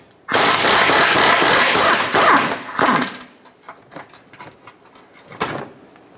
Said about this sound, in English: I'm using a wrench and a socket. We're gonna undo the bolt.